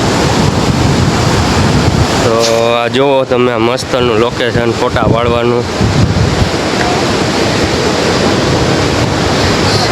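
Sea waves surge and wash along Atroli beach, a constant roar blended with heavy wind buffeting the microphone, while someone talks over the surf.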